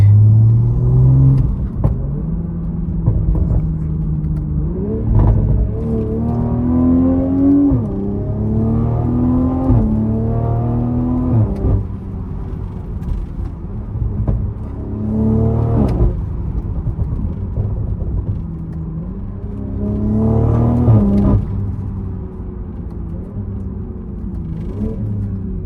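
A BMW Z4 M40i with a Gen 3 B58 engine and an aftermarket downpipe is driven hard. It gives loud, close rumbling revs that climb repeatedly through gears, with crackles between pulls and no talking.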